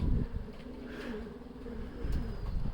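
Domestic pigeons in a loft, cooing in low, throaty rolling calls at close range, several overlapping coos over faint background noise.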